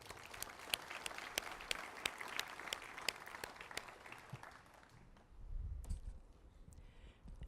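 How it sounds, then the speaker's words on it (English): Scattered applause at an outdoor Memorial Day ceremony in Glendale, moderate and steady for about five seconds before fading, followed by a low rumble and quiet ambience. "Let's give them a round of applause."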